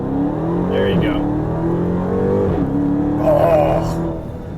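A 2017 Dodge Charger Hellcat pulling hard during a launch from inside the cabin, the engine note rising through gear changes, with voices talking over it.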